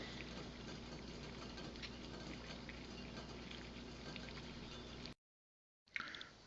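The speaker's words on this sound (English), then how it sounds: "just boiling up some corn sugar for my brew" A corn sugar solution for beer priming bubbles and hisses at a dense rolling boil, close by and continuous, then a brief silence and a short clatter at the end.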